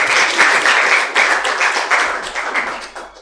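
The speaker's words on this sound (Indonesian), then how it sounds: "Tepuk tangan." Classroom of students clapping together, a brisk, close burst of many hands in uneven rhythm that holds steady for a few seconds and tapers slightly.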